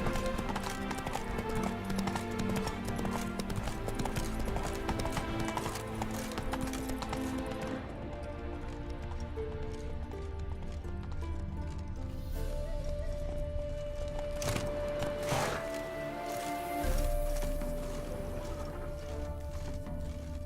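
Steady clip-clop of horse hooves in The Witcher 3 plods on throughout, layered with music and ambient sound, a brief crash-like burst partway through.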